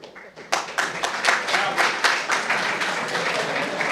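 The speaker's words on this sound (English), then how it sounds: "No matter how many times you ask for the hold of applause, it never works." Audience at a library ceremony honoring a judge breaks into applause, a burst of many hands clapping that starts abruptly and continues steadily at moderate loudness, with some voices mixed in.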